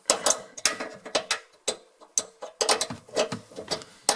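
Fitting underneath a kitchen sink mixer tap being tightened during a tap replacement, giving a close series of sharp metallic ratcheting clicks in irregular bursts of quick ticks with short pauses between turns, no voices.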